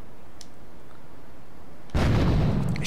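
A grenade launched in Grand Theft Auto 3 bursts in a single loud, deep explosion after a stretch of quiet game ambience, with the blast rumbling on to the end.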